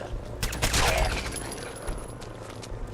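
Gunfire in the video game Fallout 4 sounds as a loud, rapid burst of shots over steady game background noise.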